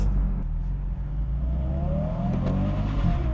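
A BMW M4 rumbles loud and close from inside the car, its engine note droning heavily with a rising rev blip on the downshift, and no talking over it.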